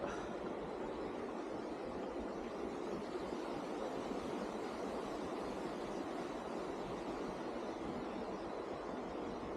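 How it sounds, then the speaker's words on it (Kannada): Jogigundi waterfall near Agumbe, running with a low flow of water, gives a steady, unbroken rush of falling water that stays even and fairly close throughout, with no voices. "ಇದೇ ನೋಡಿ ಜೋಗಿಗುಂಡಿ ವಾಟರ್ ಫಾಲ್ಸ್ ಇದು."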